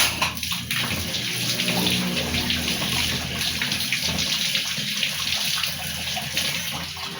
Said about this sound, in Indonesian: langkah selanjutnya kita cuci mentimunnya sampai dengan bersih